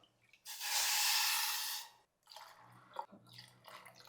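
Water poured from a bowl into a pan holding jaggery, a steady broad splashing pour lasting about a second and a half, followed by softer dripping and small clinks, heard close with no voices.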